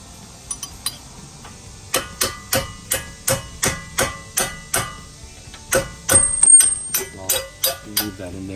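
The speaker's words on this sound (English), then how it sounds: "tap it with a hammer" A hammer strikes the strut of a 2013 Kia Sorento EX FWD during a strut and coil spring install, giving about fifteen sharp metallic taps. A few lighter hits come first, then a steady, evenly paced series up close.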